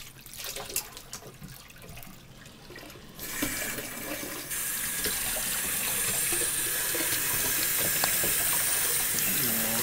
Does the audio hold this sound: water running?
yes